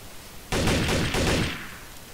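Burst of rapid gunfire from a rifle in the Roblox game Terror Town, starting abruptly and running about a second before tailing off, loud and with no talk over it.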